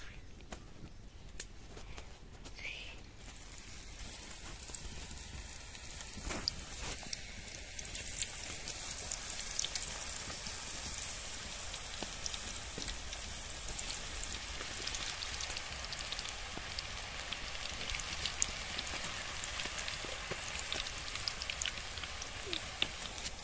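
Cassava chips sizzle in hot oil with a steady, dense crackle like rain, constant and moderately quiet across the whole stretch, with occasional brief clicks and faint talk beneath.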